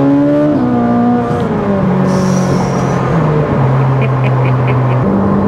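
Ferrari 458 Speciale engine howling loud and close, its high pitch stepping down through several gear changes, with a brief whine partway through and no talking.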